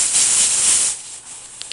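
A pressure canner weight starting to jiggle on the stovetop while canning frozen peas, giving a loud steady steam hiss that drops off after about a second, followed by two short faint ticks.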